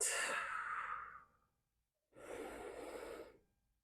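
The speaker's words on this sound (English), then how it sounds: "take a deep cleansing breath in and out" A deep, slow breath drawn in through the nose is followed after a short pause by a long audible exhale, both close and soft with no other sound.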